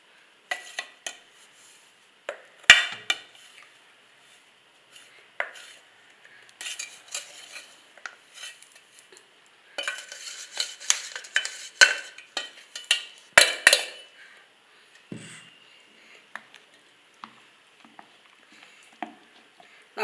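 Ground tomato pickle paste is stirred in a pot, giving intermittent clinks and scrapes of a utensil against the metal in uneven bursts, close by, with no talk.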